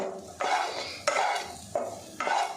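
Spiced potatoes tossed with ghee, chilli and chopped coriander are stirred in a pan, giving four scraping, clattering strokes in a steady rhythm, close and moderately loud, with a soft sizzle underneath.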